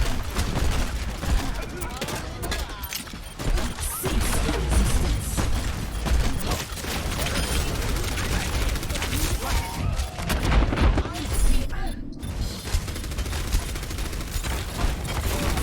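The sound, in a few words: gunfire from a teammate shooting in the Overwatch video game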